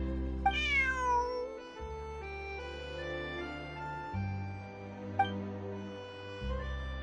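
Cat meowing in Genshin Impact, two short mews over a soft melodic game music backing, close and clear.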